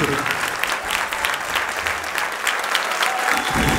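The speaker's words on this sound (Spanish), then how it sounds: "fuerte el aplauso para él" Audience applause for a comedian at a stand-up comedy night at César Manrique Cultural, steady dense clapping from a crowd filling the whole stretch, loud and continuous.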